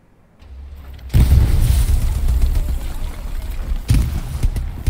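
Artillery shell exploding in the WWII game Hell Let Loose: a sudden heavy blast after a quiet start, followed by a long rumbling debris wash and a second thump near the end.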